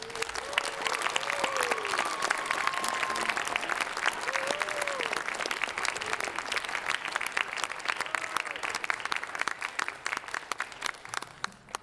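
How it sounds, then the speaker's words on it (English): Audience applause for a high school percussion ensemble's director at a concert, with steady sustained clapping from a large crowd filling the hall throughout, plus a few scattered whoops and voices. "Please welcome back to the stage, and let's give her a round of applause, Miss Abrianna Gomez."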